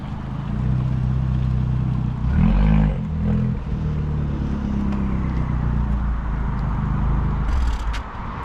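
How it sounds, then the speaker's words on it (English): An Abarth car arrives at a car meet on an airfield, its engine rumbling steadily and close with a brief rise in revs partway through before settling back to a throaty idle. "I am going to try and capture everybody's car coming in so everyone can see what their car sounds like"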